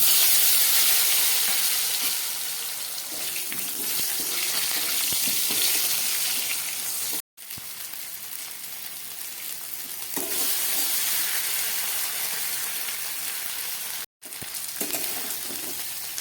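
Cut potatoes hiss and crackle loudly in hot fish-frying oil with bay leaf and radhuni spices, a steady close sizzle with stirring that breaks off twice for a moment.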